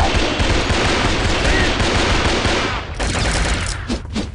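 Rapid, dense gunfire from dual pistols in the game Shogo: Mobile Armor Division, loud and continuous for most of the stretch before thinning into a few separate shots near the end.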